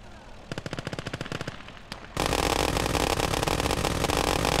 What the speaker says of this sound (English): Machine gun, oh my god.